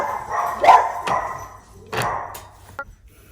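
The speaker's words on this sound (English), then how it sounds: "My dog decided to bark in the middle." A dog barks loudly nearby in a home, giving two or three sharp barks with a short gap between them and a brief faint yip near the end.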